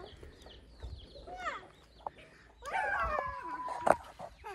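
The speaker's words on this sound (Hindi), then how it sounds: "ये है जी मुर्गा ये कल हमने लिया था" Chickens and a rooster in a village yard, a close, loud rooster crow following scattered clucks, with a dog barking and some background voices mixed in.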